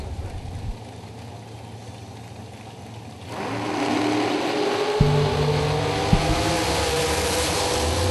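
Super Pro gamblers race car making its drag strip run, engine noise that grows louder and rises in pitch partway through as the car accelerates away, with a couple of sharp clicks and a steady roar after.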